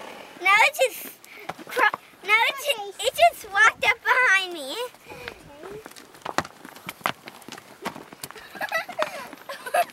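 Horses' hooves clop unevenly on the ground nearby while people talk and the horses snort and whicker.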